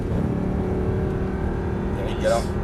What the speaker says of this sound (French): Allez, on débraque, on accélère